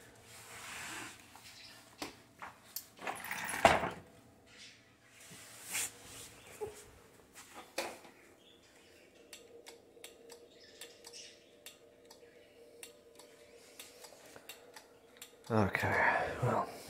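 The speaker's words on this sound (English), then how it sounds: "I hear a relay switching." A relay clicks inside a Pulse electric scooter whose motor won't run, giving a scattering of sharp, irregular clicks close by, mixed with a few louder bursts of handling and rattling noise.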